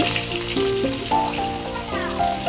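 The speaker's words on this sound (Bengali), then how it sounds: "তেলটা গরম হলে পরে গ্যাসটা বন্ধ করে দেবো পরে এর মধ্যে দিয়ে দেবো পেঁয়াজ কুচি" Chopped onion dropped into hot oil in a kadai for a bachelor-style chicken dish, sizzling steadily under louder background music, with no talking.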